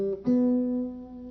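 Acoustic guitar notes of an arpeggio harmonized up to the seventh on the one chord ring out in quick succession, one sustained note carrying to the end, close and fairly soft.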